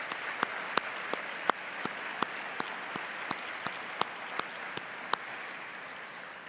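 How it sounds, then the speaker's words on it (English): A crowd applauds the American Legion Post 377 band at a Memorial Day commemoration, steady clapping from a sizable audience with a few sharp, louder claps standing out, slowly tapering over several seconds. "please join me in a round of applause thanking the American Legion Post 377 band"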